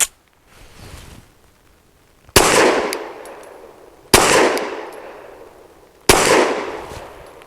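Three loud gunshots from a Saricam S-19 pistol fired at a range, roughly two seconds apart, each a sharp crack followed by a long fading echo.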